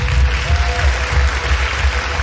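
Audience applause in a debate competition hall, a steady dense patter of many hands clapping together for the full stretch, fairly loud and close with no talk over it.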